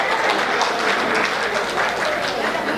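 An audience at a Hindi comedy poetry gathering claps steadily, a dense and even wash of applause from many hands, loud and close, with no voices over it.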